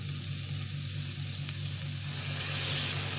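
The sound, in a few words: boiled water poured onto rice in a pot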